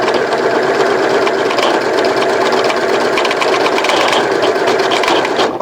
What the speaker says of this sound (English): I don't know why we're getting a clicky sound.